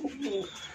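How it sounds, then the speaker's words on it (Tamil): A white homer pigeon coos softly nearby in a few short, throaty notes that run together, with no voices over them. "கீழே இருக்க ஒரு புறா இருக்கு"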